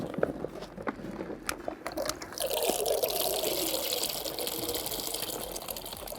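Pacific tuna boilies emptied into a bucket of lake water: a few sharp knocks and taps, then a continuous pouring, rattling splash of bait tumbling into the water, close and moderately loud.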